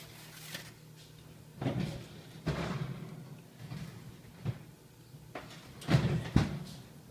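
Several muffled thumps and clunks from a kitchen oven, with the door handled and shut after a thin-crust pizza goes back in at 450 degrees, irregular and close, with a sharper metallic bang near the end.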